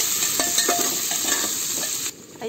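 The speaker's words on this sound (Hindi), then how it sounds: "सभी चीज़ों को हम ब्राउन होने तक भून लेंगे" Chopped onion and garlic frying in oil in a pan for a chana dal tadka, a loud continuous sizzle with scraping stirring strokes, then abruptly quieter at the end.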